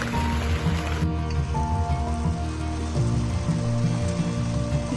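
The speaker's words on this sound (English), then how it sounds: "I'm under here hiding from the rain." Rain drums steadily on a tarpaulin sheltering someone at an outdoor festival, a dense, close, continuous patter with no voices.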